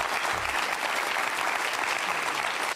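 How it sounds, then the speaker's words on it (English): Dense, sustained applause from a studio audience welcoming a guest, loud and continuous before cutting off abruptly. "Hold your applause just for a moment"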